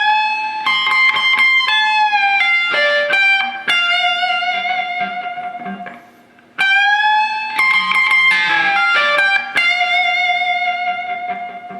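Electric guitar plays a bluesy lick from a solo, with bent and sustained notes in two similar phrases separated by a short dip, up close and unaccompanied.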